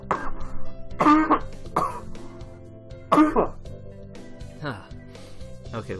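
A person coughs in loud, harsh bursts, about three distinct coughs spread across a few seconds, close to the listener with some throat-clearing.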